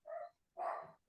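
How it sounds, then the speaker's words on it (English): Two short barks from a pet dog at home, set off by someone at the door, sound faint and somewhat distant, one after the other in quick succession. "sorry if you guys can hear my dogs barking here"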